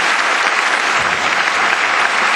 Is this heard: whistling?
no